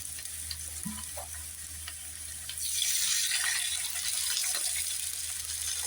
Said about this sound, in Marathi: पाणी टाकणार आहोत आपण.